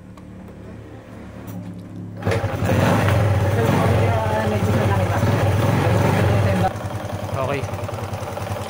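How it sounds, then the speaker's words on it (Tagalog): A Wave Alpha 100 motorcycle engine idling loudly nearby with a rough internal rattle from inside the engine, rising in volume midway; a voice speaks briefly at the start. "Maingay ang makina. So, merong maingay sa loob ng makina."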